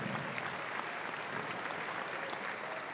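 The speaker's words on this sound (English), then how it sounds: "let's give them a round of applause." Audience clapping at a university welcome event on stage, a dense, steady wash of applause from a large crowd, sustained evenly at moderate volume without voices above it.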